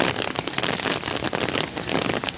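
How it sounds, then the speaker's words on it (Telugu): Heavy rain pours steadily in Visakhapatnam, a dense continuous hiss of drops pattering on surfaces with no pauses and no voices. "వర్షం అనేది బాగా పడుతుందండి"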